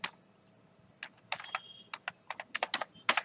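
Keys clatter on a computer keyboard as a telnet password is entered for a Cisco router, with irregular clusters of quiet, close clicks and short pauses between them.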